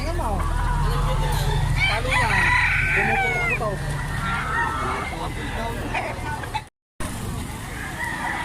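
Roosters crow and cluck amid a busy crowd, with people talking and some vehicle noise; the sound cuts out briefly near the end.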